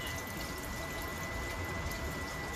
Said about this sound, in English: So let's pour all this in there.